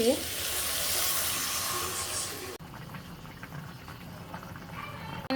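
Water poured into a pan of sizzling, well-fried curry gives a loud, broad hissing sizzle that cuts off abruptly, then quieter bubbling and stirring sounds continue close by.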